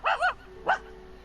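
A dog barking in the Genshin Impact video game: two quick close barks followed by a single shorter bark, loud and clear over a faint background hum.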